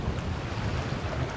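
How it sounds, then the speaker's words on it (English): Strong wind blows steadily outdoors beside a gravel path near a small waterfall, a loud, continuous roar and buffeting close to the microphone, with no voices. "Shame about that wind, it's getting stronger."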